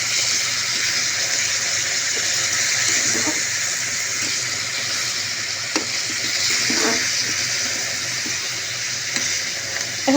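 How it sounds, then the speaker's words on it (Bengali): Steady sizzling and frying hiss of papaya, potato and peas with ginger-garlic paste in a hot pan, with occasional soft stirring scrapes, close and continuous with no talk. "মটরটা দিয়ে একটু কষিয়ে নিচ্ছি সবজিটাকে আমি"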